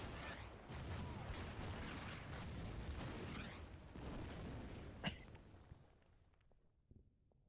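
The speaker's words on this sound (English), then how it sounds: "Everyone's kind of just engaging in an artillery duel at the moment." Artillery duel in the WW2 strategy game Order of Battle, with repeated heavy booms and rumbling blasts layered densely over several seconds, then a sharp crack before the barrage thins out into quieter scattered impacts.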